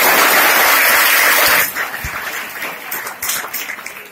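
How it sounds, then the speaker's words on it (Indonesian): Audience applause for a speaker at a motivational event in an Islamic Quran-memorization boarding school, loud and dense at first, then cutting off abruptly to a quieter room with scattered noise. "Oke, tepuk tangan buat Muhammad Yasir."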